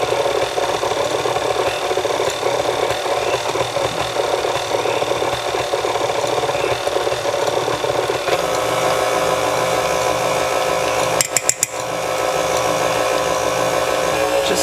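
An electric stand mixer beats egg white bread batter with a loud, steady motor whir that stays constant throughout. A brief clatter comes near the end, with no talking.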